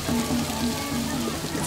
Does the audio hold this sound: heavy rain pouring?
yes